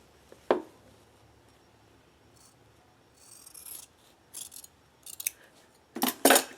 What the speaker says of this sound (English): you can pretty much put your scissors the whole way